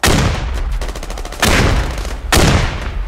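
Grenades burst repeatedly in an online shooter match on an EU server, three loud blasts roughly a second apart with rattling gunfire-like crackle between them, close and dense with no talk.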